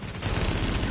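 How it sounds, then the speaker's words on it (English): Rapid gunfire in the video game The Division comes from behind the player, a short, dense burst of automatic shots that is loud and close, with no voices over it. "Someone's shooting me from behind. I'm getting shot from that direction right now."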